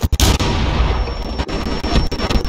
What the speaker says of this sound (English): It's a grenade, G.